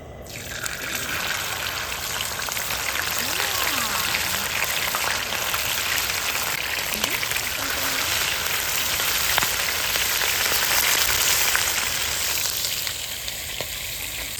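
Freshly caught fish fry in a pan at a riverside campsite, a dense, continuous sizzle with crackling pops, close and steady throughout.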